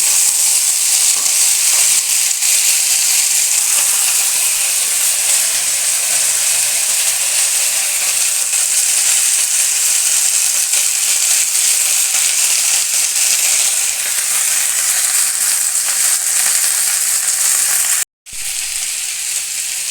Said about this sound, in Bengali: একটু হালকা বাঁধাকপিটাই ভেজে নেবো।